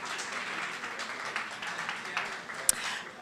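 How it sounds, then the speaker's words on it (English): Conference audience applause for a panel moderator at a crypto accelerator event: a steady, moderate wash of many hands clapping at a distance, with one sharp louder clap near the end. "Please give him a round of applause."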